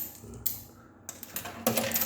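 Coins are dropped into a coin-operated WiFi vending machine, making bright metallic clinks and rattles, a few separate hits and then a denser cluster, close up against a faint hum.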